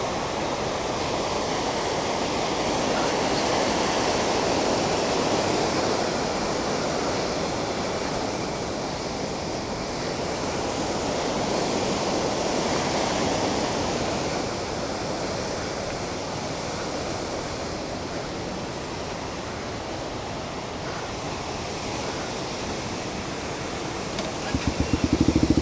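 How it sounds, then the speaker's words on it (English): A strong river current rushes and churns continuously, a loud broad roar of flowing water with some wind buffeting on the microphone, steady throughout with no voices. "The mighty current river"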